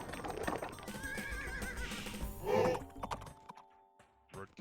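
Cataphract cavalry horses in a strategy video game whinny loudly over clattering hoofbeats, then the noise fades into scattered clicks of a computer mouse or keyboard.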